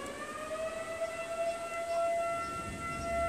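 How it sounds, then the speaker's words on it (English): A civil defense siren wails steadily in the distance, a sustained rising and falling tone over faint background noise. "Now that the siren has stopped"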